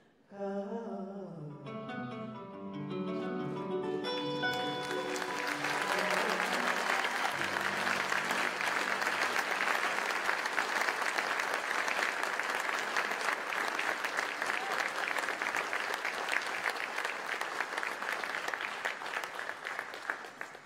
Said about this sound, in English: One more round of applause for Lisa Johnson.